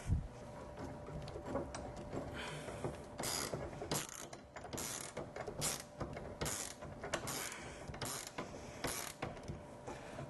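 An 11mm wrench tightens a nut during assembly of a children's pumper car, with a screwdriver holding the bolt. It makes a close series of uneven ratcheting clicks and metallic bursts in quick repeated strokes, with no voices.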